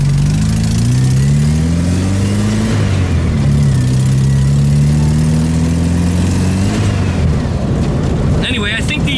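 A VW Super Beetle built as a Volksrod revs hard in first gear while driving, its engine pitch rising and falling through loud, close gear pulls, with someone talking over the noise.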